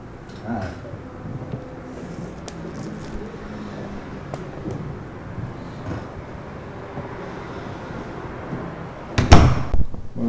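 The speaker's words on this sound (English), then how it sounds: "Should I close the door?" A door shuts near the end with a single loud thud, after a long stretch of quiet room noise and faint movement.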